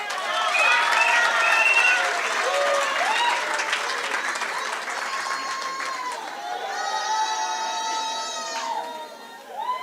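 A graduation ceremony audience in Gauteng breaks into loud, sustained applause with scattered cheers, while tonal musical sounds ring out over the clapping before it fades near the end.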